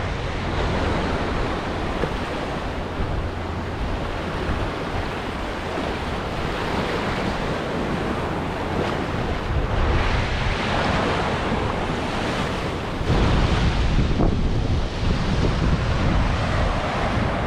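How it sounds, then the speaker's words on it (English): Ocean waves roll onto Topsail Hill Preserve State Park Beach in Florida as a continuous surf roar, with heavy wind buffeting the microphone and a louder surge near the end. "So this is it, Topsail Hill Preserve State Park Beach, and it is spectacular."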